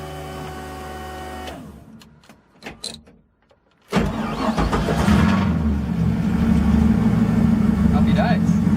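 Nissan S13 drift car engine cranking briefly with clicks and a short pause, then catching and settling into a loud, steady idle close by.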